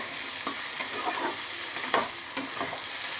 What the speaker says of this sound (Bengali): এবার এগুলোকে একটুখানি সতে করে নেব